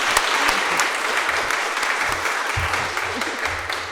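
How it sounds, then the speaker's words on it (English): An audience applauds at a conference event in Glencree, a dense, sustained clapping from a sizeable crowd that stays loud throughout and tapers off only slightly toward the end. "I think we should give Áine a round of applause as well for the superb job"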